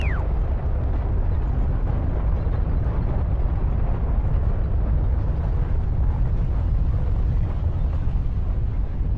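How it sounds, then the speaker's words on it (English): An explosion in the video game Not For Broadcast, a loud sustained rumbling roar with a brief descending whine at the start, dense and continuous for several seconds with no talk over it. "There's the explosion."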